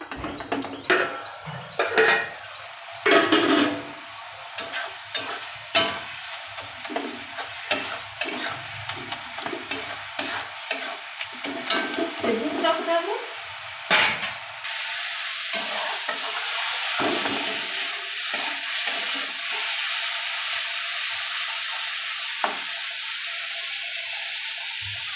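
Vegetable bhaji fries and gets stirred in a pan, with scraping spoon strokes and clinks against the metal over a steady sizzle; the stirring goes quiet about halfway through, leaving a continuous hiss of frying.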